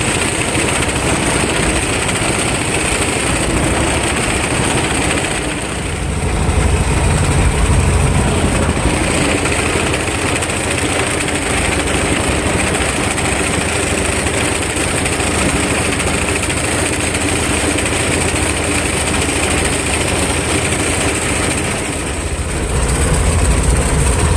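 A T-25 tractor engine runs steadily with a Polish mower attached, cutting grass in a hayfield; a continuous loud mechanical drone with faint dips, no talking over it.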